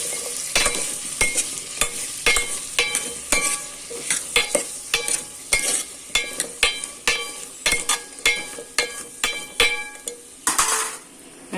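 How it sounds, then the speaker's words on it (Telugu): A spoon scrapes and clanks rhythmically against a pan as tomatoes, potatoes and drumstick pieces are stirred over soft frying sizzle, about twenty close, loud strokes in steady succession. "టమాటాలు వేసాను, తర్వాత ఆలుగడ్డ, తర్వాత ములక్కాళ్ళు వేసి కలిపేద్దామండి."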